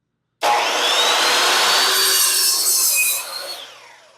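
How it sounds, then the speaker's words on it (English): Power saw rips the edge off a cedar fence picket in one steady, loud continuous cut lasting about three seconds, then tapers off as the blade winds down. "we're going to fire up our saw here, and in a nice controlled motion, we're going to take this edge off"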